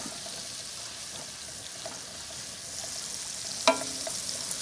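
Lobster with ginger searing in a pan over low heat, giving a faint, steady frying hiss throughout with one brief clink of a utensil near the end.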